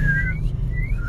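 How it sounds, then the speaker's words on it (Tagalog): A person whistles a short, thin, wavering tune of two or three gliding notes, close and fairly loud, over a low background hum. "Wala, hindi na marunong sumipol."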